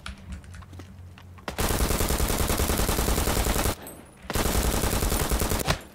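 Bursts of rapid automatic gunfire in the extraction shooter Project L33T, two long dense sprays broken by a short pause, loud and close with no talk over them.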